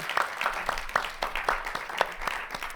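Scattered applause from an audience at a temple Sunday service, with a few hands clapping at an irregular rhythm, moderately quiet and somewhat distant in the room.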